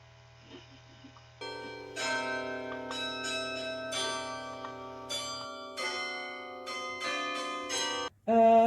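Mini carillon bells in a classroom ring out a melody, chimes struck one after another with long ringing overtones, moderately loud and steady.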